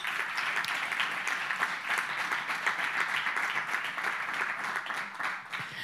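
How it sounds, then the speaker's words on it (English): Dense, even applause from a conference audience, a continuous wash of many hands clapping at moderate distance with no speech over it. "Please give him a big round of applause as well."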